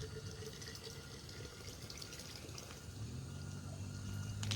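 Bottled water pours steadily into a container, a continuous close splashing trickle that grows fuller and louder toward the end.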